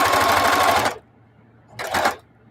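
A sewing machine quilting with a walking foot runs in a fast, loud, close buzzing stitch, stops briefly, then runs again in a short second burst.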